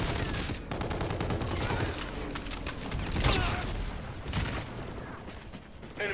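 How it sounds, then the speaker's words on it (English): A submachine gun fires in Infinite Warfare, with rapid rattling bursts of automatic fire over mechanical clatter and game ambience, peaking in a heavier volley around the middle. "I'll just stick with the submachine gun."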